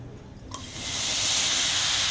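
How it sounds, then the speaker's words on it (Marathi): Tomato pieces dropped into a hot pan on a home stove, a brief soft clatter followed by a loud, steady hiss of sizzling that swells and holds. "तर मी पॅन गरम करायला ठेवलाय। आता आपण त्यामध्ये टोमॅटो टाकूया।"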